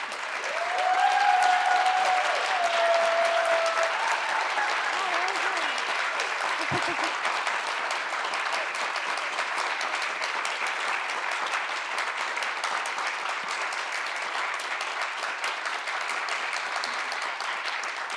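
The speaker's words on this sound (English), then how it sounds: "I'd love for you to give them a round of applause." An audience gives a sustained round of applause for panelists at a wellbeing event, steady dense clapping throughout, loudest at the start, with a voice briefly heard early on.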